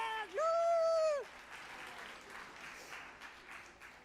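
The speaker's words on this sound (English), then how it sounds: "clap your hands" An audience at a school career day keynote clapping their hands, a soft scattered patter of applause that carries on after a brief whoop-like voice at the start, faint and somewhat distant.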